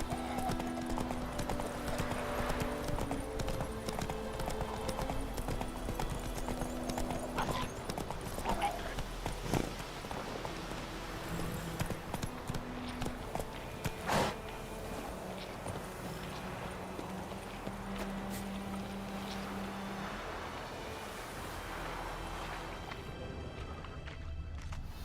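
Horse hooves clip-clop at a steady walking pace in The Witcher 3, a moderate rhythmic plodding under continuous game ambience and music, with faint voices in the background.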